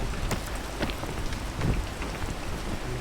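Steady rain in the video game PEAK patters and hisses densely on a surface, close and even, with a faint low rumble beneath.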